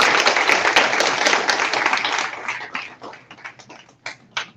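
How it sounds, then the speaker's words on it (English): An audience applauds after a children's performance at a Gandhi Jayanti celebration: dense, steady clapping that thins into scattered individual claps and fades out toward the end. "Once again, a big round of applause."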